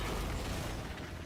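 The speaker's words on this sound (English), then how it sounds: "Those explosions look so good." Grenade explosions burst in the Path of Exile video game as a Ranger character fights, a short dense rumble of blasts that runs without a break and sits loud and close.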